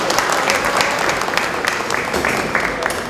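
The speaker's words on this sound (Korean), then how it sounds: "박수로 환영해 주시기 바랍니다." A crowd applauds at the opening ceremony of a photo exhibition marking a memorial anniversary for former president Kim Dae-jung, with loud continuous clapping from many people filling the room at close range.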